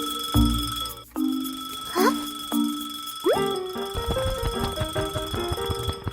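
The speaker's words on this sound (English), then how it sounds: "Suddenly, the clock starts ringing loudly." A cartoon alarm clock on a table rings loudly in sharp metallic bursts, mixed with bouncy, boinging cartoon sound effects and ending in a quick run of plinking notes.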